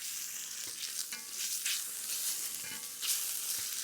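Quiet, steady sizzling of chicken frying in a pan, with soft crackles and occasional scraping.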